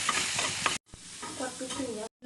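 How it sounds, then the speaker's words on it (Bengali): Shrimp frying in a pan, sizzling steadily with stirring scrapes in two loud bursts separated by a short silent break, with no talking. "চিংড়ি মাছটা ভালো করে একটু ভেজে নেব।"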